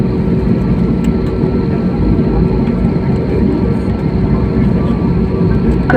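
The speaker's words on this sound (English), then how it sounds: "Cabin crew to your seats for takeoff please." A passenger airplane preparing for takeoff at Bangalore airport, heard from inside as a steady loud low engine rumble and hum that holds constant throughout.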